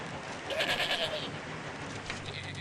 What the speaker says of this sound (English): sit down like dogs but have voices like goats, excepting they can't sing the very high notes